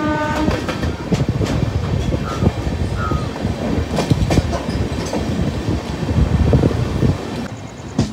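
A passenger train pulls into Rajahmundry railway station, its steady close rumble mixed with rhythmic wheel clatter and sharp metallic knocks, with no voices over it.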